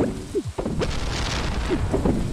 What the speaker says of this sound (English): today is also not just raining, but...